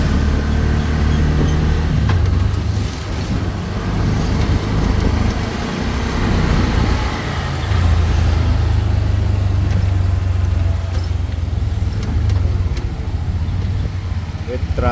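Steady, loud road traffic rumbles near an airport gate in Zamboanga City, with engines of passing cars and heavier vehicles blending into a continuous roar and a voice talking over it.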